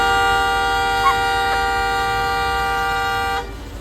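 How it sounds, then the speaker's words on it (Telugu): Car horns blare in a traffic standoff between a Mahindra Thar and a Volkswagen: one loud, steady horn held for about three and a half seconds, then cut off abruptly, leaving low traffic rumble. "ఇక్కడ చిన్నపాటి హారన్ వార్ జరిగిన తర్వాత"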